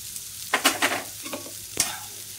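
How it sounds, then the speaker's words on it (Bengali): Fig chutney frying with sugar in a pan, with a few quick, close stirring scrapes and light sizzling in a brief burst. "আবারও এটাকে ভেজে নিতে হবে চিনি দিয়ে। চিনিটা যতক্ষণ না গলছে ততক্ষণ এইভাবেই ভাজতে হবে।"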